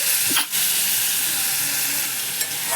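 Chopped tomatoes for dal fry sizzle loudly in a hot pan, a steady bright hiss with a brief stir near the start and a small clink later, close and alone.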